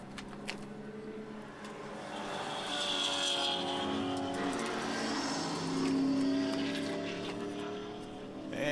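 Race cars drive past at the O'Reilly Auto Parts Grand Prix, with engines droning and swelling as they pass, rising and falling in pitch at a steady distance.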